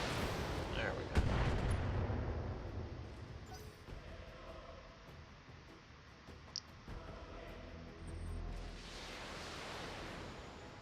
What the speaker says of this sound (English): Okay, missiles.